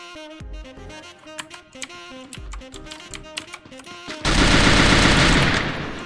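Video game gunfire crackles in quick bursts of sharp shots over keyboard clicking, then swells into a loud, dense continuous roar near the end.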